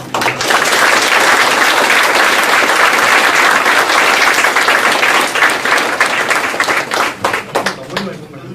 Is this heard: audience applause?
yes